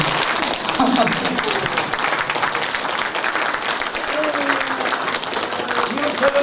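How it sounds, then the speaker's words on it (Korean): Audience members at a Democratic Party members' assembly and lecture clap together in sustained, even applause, with a speaker's voice faintly heard over it. "박수 부탁드립니다."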